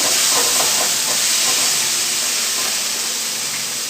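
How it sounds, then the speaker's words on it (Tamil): Onion and raw mango sauté in a hot pan with a loud, continuous, close hiss of frying and faint stirring beneath it, with no talking. "அது கூட நம்ம மாங்காவை போட்டுக்கலாம். ஒரு 2 நிமிஷம் தாங்க, 2 நிமிஷம் வதங்கினா போதும்."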